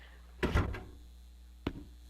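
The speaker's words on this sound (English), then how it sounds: "Couple turns, and we're through the door." A door opens in the survival-horror video game Silent Hill: Shattered Memories, giving a loud thudding burst with a quieter knock shortly after, over a low ambient hum and no talk.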